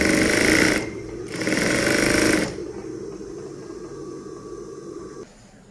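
Sewing machine stitching in two loud bursts of rapid mechanical chatter, then a quieter steady motor hum with faint rhythmic ticking that drops away near the end, close up with no talk.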